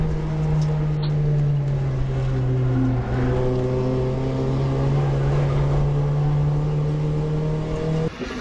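A Toyota MR2 race car fitted with a V6 runs on track at Pukekohe, its engine holding a loud, steady drone close by for the whole stretch, easing slightly near the end.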